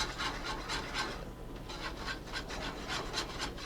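A whisk scrapes rhythmically through sugar and butter caramelizing in a pan, giving a steady run of quick, close rasping strokes with no voices.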